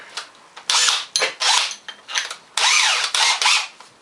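A small workpiece is clamped and tightened in a drill chuck on a homemade lathe setup, giving several short bursts of close metallic ratcheting and rubbing separated by brief pauses.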